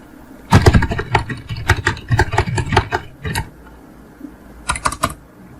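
Close, crisp computer keyboard typing while writing in MS Word, an irregular flurry of clacking keystrokes for a few seconds, a brief pause, then a short final burst.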